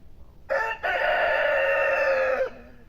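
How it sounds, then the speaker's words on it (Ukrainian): A single rooster crows nearby in a foggy village, one long clear call lasting about two seconds over quiet outdoor background. "Півні співають."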